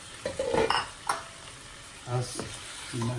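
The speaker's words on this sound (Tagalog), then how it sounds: "Haluin nyo po ng konti para lumasa po yung toyo." Beef and green beans with soy sauce get stirred in a pan, with a few scraping and clinking utensil strokes against the metal over a quiet background sizzle, spaced out in short bursts.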